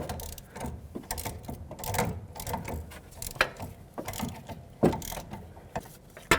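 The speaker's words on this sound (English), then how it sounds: "Now I'm going to use my 3/8 ratchet with an extension, put it in here, and that's going to twist the tie rod end off" A 3/8 ratchet with an extension turning the outer tie rod end off a 2001-06 Toyota Camry, giving repeated clicking and grinding metal strokes in an uneven rhythm, close and moderately loud, with no talking.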